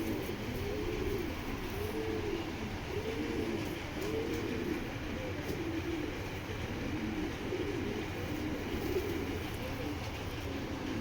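Pigeons coo repeatedly in a loft, a light-colored BRPL hen among foreign breed birds, with soft overlapping cooing phrases under steady low background noise.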